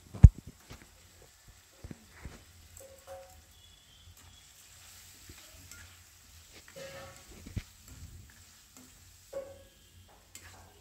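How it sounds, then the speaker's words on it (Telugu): Turmeric and rock salt are stirred into a pan of chicken curry with cucumber, quiet scattered scrapes and clinks of a spoon over a faint sizzle, mostly soft with brief sharper knocks. "పసుపు, కల్లుప్పు 2 వేసేసుకొని మళ్ళీ తిప్పాలి ఒకసారి."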